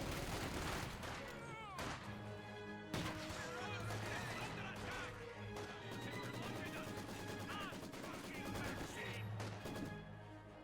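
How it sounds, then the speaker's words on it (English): Infantry rifle fire from Assault Grenadiers shooting at long range in a Company of Heroes 2 battle, scattered cracks and bursts in a busy, layered mix of combat noise, with voices talking over it. "These Assault Grenadiers are trying to shoot at long range."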